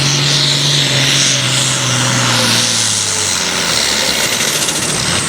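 A 1975 International 1066 tractor roaring at a tractor pull in Morley, Michigan, a loud, close engine howl with a pitch that slides downward as it pulls, sustained throughout.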